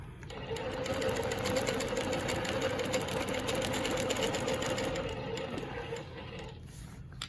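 A longarm quilting machine stitches a Baptist fan pattern with a steady, continuous mechanical whir and rapid needle chatter, running evenly close by for several seconds with no talk.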